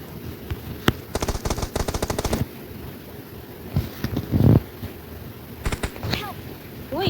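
Gunfire in PUBG Mobile: a rapid burst of sharp shots early on, then scattered single bangs and a louder low blast, with a voice speaking briefly in between.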